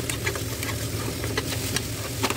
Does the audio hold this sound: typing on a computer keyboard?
no